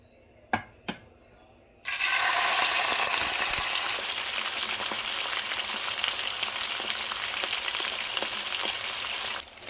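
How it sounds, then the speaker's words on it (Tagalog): Salmon frying in a pan: a loud, steady sizzle bursts in after a couple of soft knocks and continues without break, crackling and spitting close by with no talking. "iprito ko muna yung salmon"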